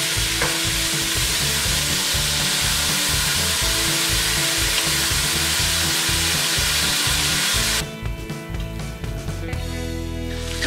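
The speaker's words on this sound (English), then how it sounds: "stirring constantly once again, scraping the bottom of the pan" Gumbo with tomato sauce stirred constantly in a pan, loud sizzling with a steady repetitive scraping of the spoon across the pan bottom, which eases off near the end.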